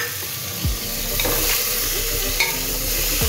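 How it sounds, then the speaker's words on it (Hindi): Chopped potatoes hit a pan of frying onions and tomatoes for tahari, a loud, steady sizzle and hiss up close, with a couple of short scraping stirs. "और उसमें हम आलू डाल देते हैं"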